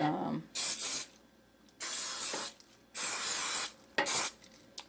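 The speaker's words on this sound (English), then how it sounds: "Make sure that you're spraying around the perimeters of the muffin cup" Cooking spray hisses into muffin cups in four sharp, loud bursts of about half a second to a second each, separated by short quiet gaps, close to the listener.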